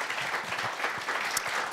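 An audience at a Korean health lecture concert claps steadily, a dense, even patter of applause from a seated crowd.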